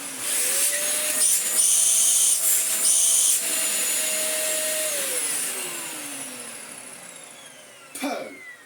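Dyson DC04 vacuum cleaner with a replaced motor, running loud and close with a high whine that winds down, then a brief clatter near the end.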